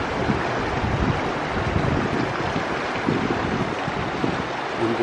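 The Gradenbach, a mountain stream in the Gradental of the Schober group, rushes loudly and continuously, a dense broadband roar close by with no pauses.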